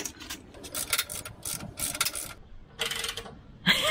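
Torque wrench clicking as bolts are tightened on a 17-year-old Land Rover during a restoration, short bursts of ratcheting clicks in several groups with pauses between, close and fairly quiet.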